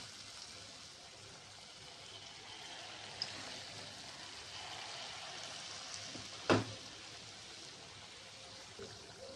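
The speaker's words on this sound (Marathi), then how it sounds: "मी हे तुपामध्ये तळवत आहे." Gulgule, sweet fritters, frying in ghee give off a steady soft sizzle and crackle throughout, with one brief louder clunk partway through.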